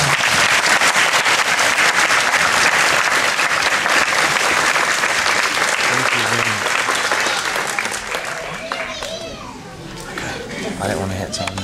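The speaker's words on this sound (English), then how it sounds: "Let's give them a round of applause." Loud, sustained clapping from an audience at a kindergarten graduation at Westminster Elementary, with children's voices and crowd noise mixed in; the applause thins out toward the end as talk and chatter take over.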